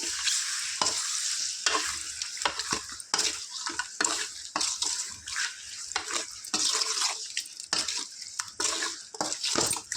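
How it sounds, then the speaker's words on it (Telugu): Chicken pieces fry in a pan with a steady hissing sizzle, broken by frequent scraping strokes of a spatula stirring the meat, close and fairly loud with no talk. "వీటిని మంచి చక్కగా గోల్డెన్ బ్రౌన్ కలర్ వచ్చేదాకా ఫ్రై చేసుకుందాం ఫ్రెండ్స్ చికెన్ని"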